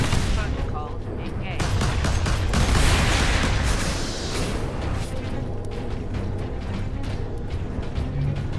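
Dense, sustained turret gunfire in the video game Warhammer 40K: Space Marine, loud and continuous with heavy mechanical battle noise, peaking briefly before settling into a steady barrage, with a voice talking over it.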